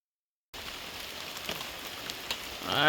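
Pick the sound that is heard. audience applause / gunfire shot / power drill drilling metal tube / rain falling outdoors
rain falling outdoors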